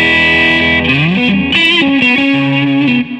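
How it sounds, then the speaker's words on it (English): Heavily distorted Fender Player Series Stratocaster on its humbucker pickup plays a short riff of sustained, gritty chords and notes, loud and thick, ending abruptly. "This is with distortion humbucker."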